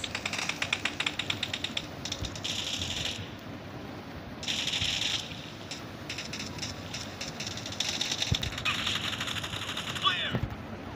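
Bursts of rapid automatic gunfire in PUBG Mobile, a mobile battle-royale game, crackle in repeated volleys over several seconds amid game sound effects, with a voice speaking faintly underneath.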